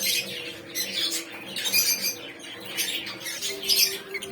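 Lovebirds in a breeding setup with rosy Lutino, rosy pied and hood pairs give repeated squawks and chirps, busy and fairly near, with no one talking.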